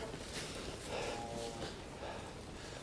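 Calves moo inside a farm barn, one drawn-out low call in the middle over a quiet, noisy background, with no talk.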